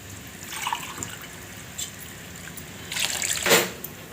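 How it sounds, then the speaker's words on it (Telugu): Water poured into rice for mutton biryani, a soft trickle and splash rising into a brief louder gush near the end, close with no voices. "ఇప్పుడు మూడు గ్లాసులు వాటర్ పోసుకోవాలి"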